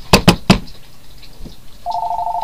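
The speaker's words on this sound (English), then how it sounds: "a phone ringing." Three sharp clicks are followed by a steady electronic telephone ringing tone that begins near the end and continues, fairly close and clear.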